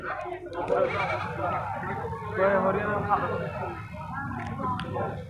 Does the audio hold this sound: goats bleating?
yes